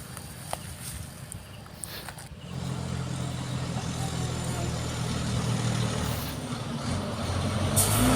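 Heavy trucks descend the mountain road at Phu Sakaen. A steady, rumbling engine drone builds after a quieter opening and holds close and loud to the end.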